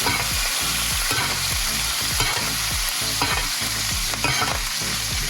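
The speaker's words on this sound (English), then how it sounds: "take a spoon and you use a spoon to baste the butter over top of the steak" Steak sizzles loudly in a pan while butter is spooned over it, with rhythmic spoon scrapes and splashes repeating about twice a second over a constant crackling hiss, no talking.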